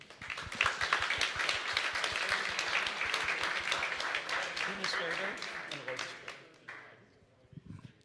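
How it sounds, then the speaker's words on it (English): Audience applause greets a speaker from the Netherlands at a business talk, crisp close claps building quickly, holding steady, then thinning out and fading near the end. "please give a big applause for Geert-Jan"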